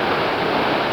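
Rafferty Creek rushing into the Tuolumne River, a steady, close, full-bodied roar of flowing water without pause or voices.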